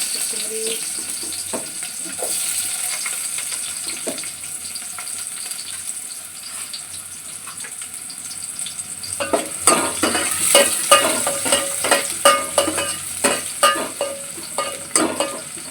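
Green chillies and onion fry in hot oil in a pan, starting as a quiet steady sizzle that turns into louder, repeated crackling spatters with stirring in the second half.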